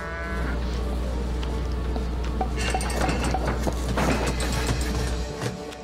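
Cartoonish cattle moos from the video game Rock of Ages 2 sound over a steady, loud bed of game sound, with a sustained lowing at the start and more calls layered into the busy mix.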